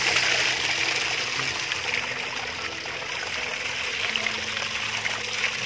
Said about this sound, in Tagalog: Lagyan natin sila ng tubig para mabilis tumaas.